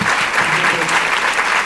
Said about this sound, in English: You're getting a round of applause here in the room